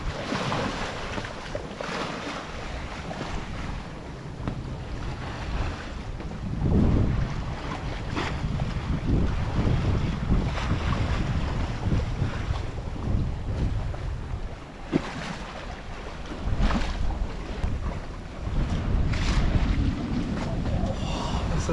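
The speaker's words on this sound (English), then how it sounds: "This is the sound that is so peaceful, like just water and wind and no engine." Water rushes and wind buffets a sailboat under sail with its engine off while it crosses the Sea of Cortez, a steady broadband wash with swelling gusts and heavy wind noise on the microphone throughout.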